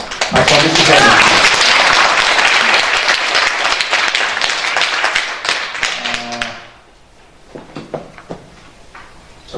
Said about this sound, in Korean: 박수 한번 주셔야 됩니다.